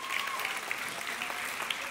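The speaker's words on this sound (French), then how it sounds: "Est-ce qu'on peut les applaudir bien fort?" An audience applauding steadily in a church service, a dense wash of clapping hands that holds at an even level throughout, somewhat distant.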